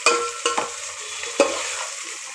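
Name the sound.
tomatoes and onions being sautéed for dum biryani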